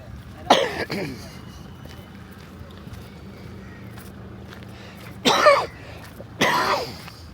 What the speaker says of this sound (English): Aircon cough, still got it.